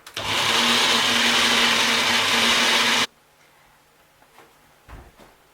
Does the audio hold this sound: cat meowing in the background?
no